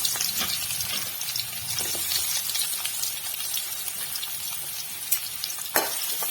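Chopped large onions fry in hot oil with whole spices for tomato kurma, giving a constant loud sizzle with occasional stirring scrapes and clinks, and no speech.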